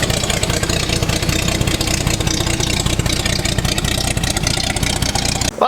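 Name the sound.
55-year-old Land Rover 109 Series 2A engine idling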